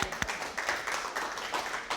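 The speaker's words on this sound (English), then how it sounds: "Round of applause for my mom." Brief burst of audience applause at a club presentation, a scattered patter of hands lasting about two seconds at moderate volume, with no talk over it.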